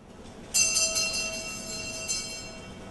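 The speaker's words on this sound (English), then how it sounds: "a bell was rung every 3 seconds to symbolize a child's death from starvation" A bell is rung at an outdoor world hunger awareness event, where each strike marks a child's death from starvation. Two clear strikes ring out with a sustained, shimmering decay over steady background noise.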